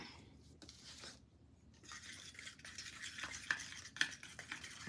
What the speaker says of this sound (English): I'm just gonna stir it up a little bit.